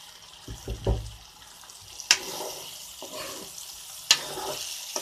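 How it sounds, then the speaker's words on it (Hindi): Water being poured into a pan of frying raw banana pieces makes a brief sizzling hiss with faint low bumps, punctuated by two sharp metallic clinks of a utensil against the pan. "6 केले के अंदर हमने 1 कप पानी डाला, सिर्फ 1 कप पानी।"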